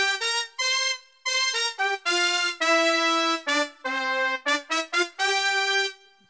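Roland Fantom G brass synth preset 940 played alone as a short run of punchy staccato stabs and held chords, clean and upfront with no talking.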